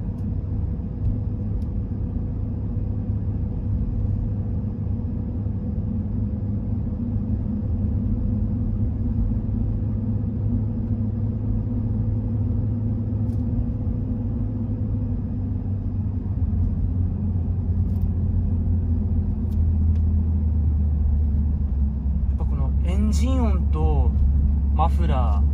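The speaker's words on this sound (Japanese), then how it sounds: "車外のマフラー入ってるんですけど、その心地いい音が何とも言えないですね" Aftermarket exhaust on a Nissan Fuga gives a steady, deep low rumble that idles or cruises evenly throughout, then swells louder near the end. Someone talks over the engine toward the close.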